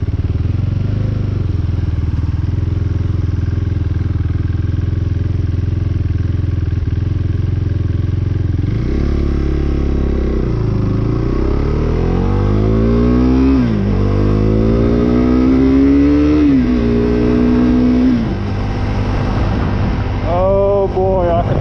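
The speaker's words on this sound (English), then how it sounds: "I can compensate for that stall just by keeping the revs up a smidge." A KTM 390 Duke single-cylinder motorcycle with a stalling, rough idle chugs low and uneven, then is blipped through several rising and falling revs, close and loud, with a voice briefly heard near the end.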